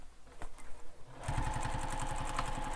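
A sewing machine runs steadily for a back stitch through backpack fabric, a fast even needle chatter that starts after about a second of quieter handling and then drives on loud and close to the end.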